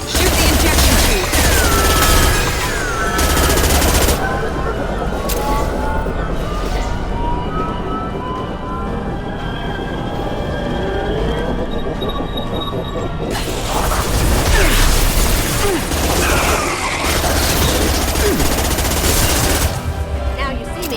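Rapid gunfire in the Mass Effect 2 game, dense bursts of automatic weapons and single shots firing loud and close in repeated waves, with voices shouting over the combat.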